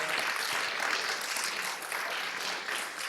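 Applause from the audience at a French award ceremony for solidarity initiatives, a steady wash of clapping that dips briefly midway before carrying on at moderate loudness.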